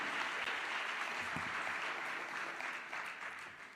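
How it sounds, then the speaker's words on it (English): A congregation gives a sustained round of applause for pastors at a church gathering, the clapping dense and even from start to finish, somewhat distant and fading slightly near the end. "Let's give them all a great round of applause, everybody."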